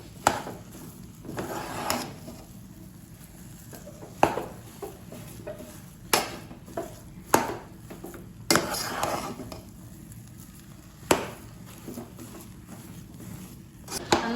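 Steamed nenthrapazham banana being mashed in a bowl, with repeated wooden and utensil knocks against the bowl at irregular intervals over steady soft scraping, close by and moderately quiet.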